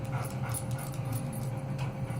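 A shelter puppy whimpers and yips in short, repeated high cries over a low steady hum, fairly close, with no talking.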